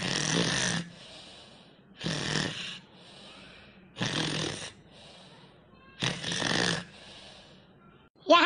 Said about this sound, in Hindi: यह देखो यह दलिदरवा के बेटी है सोई खर्राटा लेती हैं